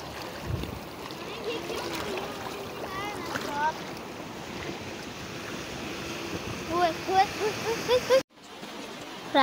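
A raft rushing through fast river water on the Kunhar River, with loud continuous splashing, wind buffeting and surging waves, while people talk and shout over the noise.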